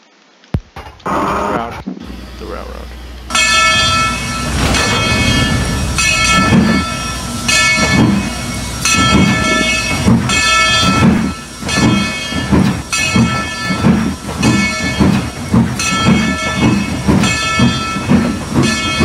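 Denver & Rio Grande Western No. 14 steam locomotive departs: a brief whistle blast, then loud, rapid exhaust chuffs building into a steady rhythm as it gets a running start, heard close with no talk.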